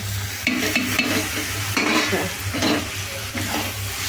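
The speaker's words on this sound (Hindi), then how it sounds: "हम मटर के अभी हिला दे हम वही में है" Peas stirred and frying in a pan, with a steady sizzle under repeated scraping strokes of a spoon against the pan, close and moderately loud, no talking.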